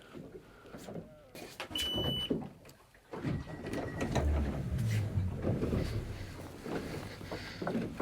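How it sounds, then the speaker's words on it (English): An outboard motor on a small fishing boat starts up and settles into a steady low rumble, loud and close, with a brief mechanical whir before it, during a winter sea-fishing trip in a sheltered Scottish spot. "I love it when the motor starts"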